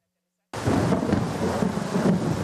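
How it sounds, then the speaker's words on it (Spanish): Thunder rumbles over a steady roar of heavy rain during an electrical storm in Guayaquil, Ecuador, bursting in abruptly after a moment of silence and staying loud and dense throughout. "Una tormenta eléctrica con relámpagos, truenos y lluvia intensa se registró en Guayaquil este jueves."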